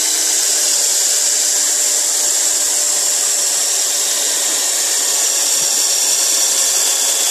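Power drill boring a tap hole into a maple tree for syrup, a steady loud high-pitched whine that holds evenly throughout with no pauses and no talking.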